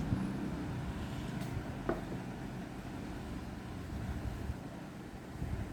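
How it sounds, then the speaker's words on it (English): Air hissing out of the small exhaust holes on the bottom side of a 5/2 double solenoid pneumatic valve in a lab, a steady broadband rush with a brief click partway through. "holes are through which the air is coming out"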